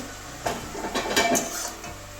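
A metal lid clanks and scrapes as it is lifted off a pan of simmering cabbage curry, with a few close clinks of cookware over a faint background hiss.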